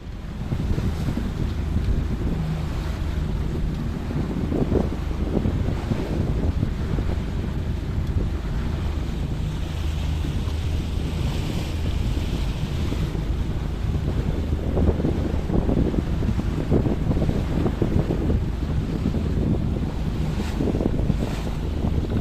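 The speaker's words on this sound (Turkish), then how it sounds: "dalgalı bir denizde seyir yapıyoruz. Zaman zaman büyük dalgalar var." Continuous rushing wind and slapping waves as a boat cuts through choppy water, with irregular surges of spray and engine rumble.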